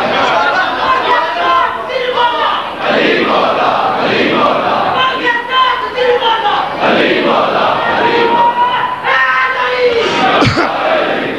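At a Shia majlis for Imam Hassan, a packed crowd raises loud, sustained chanted religious slogans, many voices shouting together in waves with a dense roar of overlapping calls.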